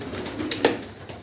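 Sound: young pigeon cooing

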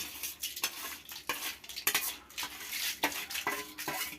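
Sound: tempering spices frying in oil

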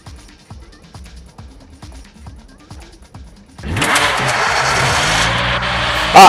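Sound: car engine driving in Knives Out video game

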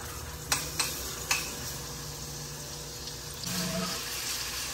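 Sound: ginger garlic paste sizzling in a pan

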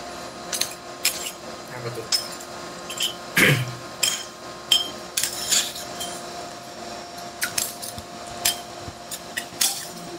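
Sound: spoon clattering against a plate

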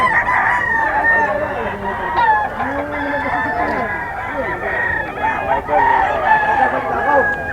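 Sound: rooster crowing at Bocaue pet market

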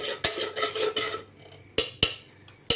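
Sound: stirring and mixing a mint-coriander chutney with chaat masala and lemon juice

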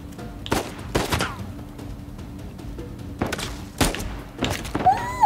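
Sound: gunshots in the video game Uncharted 4

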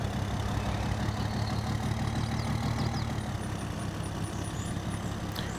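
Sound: pickup truck engine in video game Farming Simulator 22

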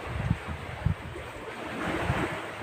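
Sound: sea waves

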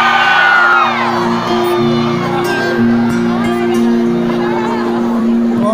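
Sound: concert crowd cheering

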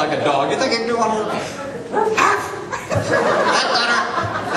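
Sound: voice imitating a hound dog

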